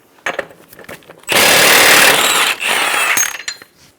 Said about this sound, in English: Using a 32mm socket, we're going to remove the axle nut.